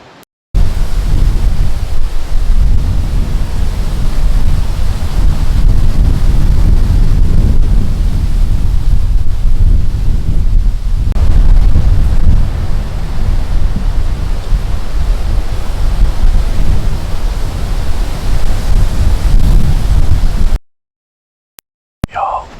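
Steady wind roars outdoors during a late-season muzzleloader whitetail deer hunt, a loud broadband rush with buffeting gusts that runs unbroken for about twenty seconds before cutting off.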